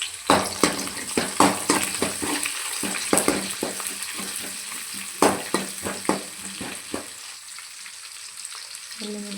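Dried red chillies and chopped onions fry in hot oil for pepper rasam, a loud continuous sizzle broken by repeated scraping stirs, close by and fading slightly toward the end.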